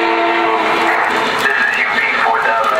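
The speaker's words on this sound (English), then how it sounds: "You can still manually blow the horn during recording as well" Lionel Legacy model train locomotive blowing its horn through a small speaker, a loud, steady, tonal blast held throughout, close and continuous.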